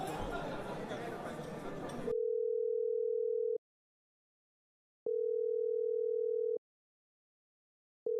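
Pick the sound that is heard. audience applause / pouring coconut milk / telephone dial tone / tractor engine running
telephone dial tone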